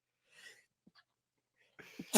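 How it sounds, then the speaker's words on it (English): A breathy intake and a short, sharp sneeze burst out near the close, after a few faint breaths and quiet moments. "I'm so worked up, I'm sneezing."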